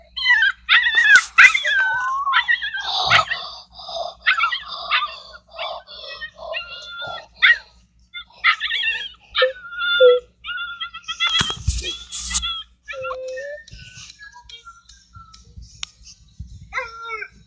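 Dogs wrestling, with one dog letting out high, wavering whimpers, yips and drawn-out howls in repeated bursts, close and loud, interrupted by scuffling thuds.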